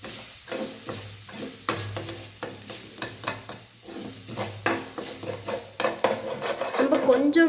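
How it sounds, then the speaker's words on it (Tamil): A spoon repeatedly scrapes and clatters against a pan as grated coconut is stirred while it roasts, a steady rhythm of metallic scrapes over a light sizzle. "கைவிடாமல் நல்லாவே மிக்ஸ் பண்ணிகிட்டு இருக்கணும்"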